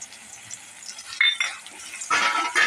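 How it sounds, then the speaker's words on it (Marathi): Spice paste and ginger-garlic paste sautéing in oil for a brinjal and potato curry, heard as a soft sizzle with bursts of spoon stirring and scraping against the pan, growing louder toward the end. "हे चांगलं आपण परतून घेऊया चांगलं तेल सुटेपर्यंत"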